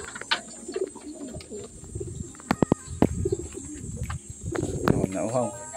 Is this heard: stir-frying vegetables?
no